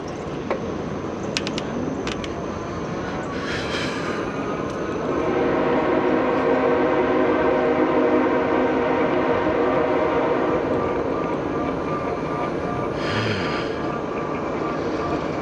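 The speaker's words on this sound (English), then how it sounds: "I guess you can hear that train. It's pretty loud." A train rumbling past at a distance, a loud sustained roar that swells midway and holds steady, with occasional clanks.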